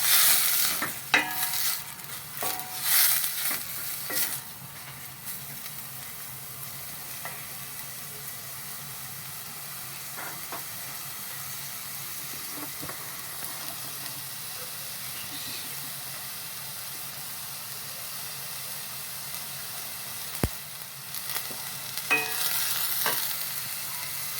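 Menemen, a Turkish egg, onion and tomato dish, sizzles steadily in a pan, with stirring clatter bursts near the start and end and a hissing frying bed between them, close and moderately loud.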